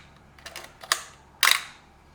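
A $40 secondhand camera bought off Craigslist fires its shutter at different speeds, producing a few sharp mechanical clicks and clacks, close and crisp, with the loudest snap near the end.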